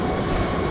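Doom Train in the video game Skyrim, a brief burst of steady rail rumble and wheel rattle, loud and close without pause.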